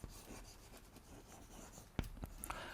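Marker or chalk writing on a board during a maths lesson on relations and functions, soft scratchy strokes followed by two sharp taps near the end, fairly faint with no talk.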